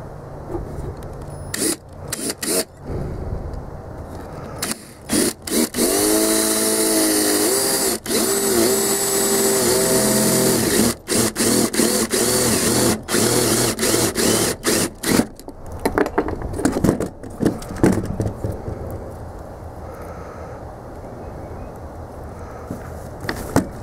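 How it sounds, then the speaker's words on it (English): A power drill bores a 5/16 inch hole through a battery terminal, loud and close. It starts and stops in short bursts, then holds a steady grinding whine for several seconds before stuttering off again. No one speaks. "So I'm just going to drill it out 5/16."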